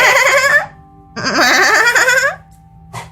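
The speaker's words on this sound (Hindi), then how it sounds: "तभी उसे बकरी की मैं की आवाज आती है।" A goat bleats loudly and close by, two long quavering calls separated by a pause, followed by a brief short bleat, with no talking.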